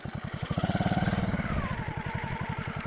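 A BMX bicycle fitted with a small motorcycle engine chugs close by, its rapid, even exhaust pulses running steadily throughout and briefly swelling as it pulls away.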